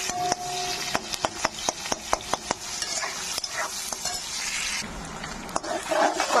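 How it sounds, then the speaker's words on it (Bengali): Onion fries in a pan in oil, a continuous sizzle punctuated by a quick regular series of spatula taps and scrapes against the pan. "পেঁয়াজটা ভাজা হচ্ছে ভাজা হচ্ছে"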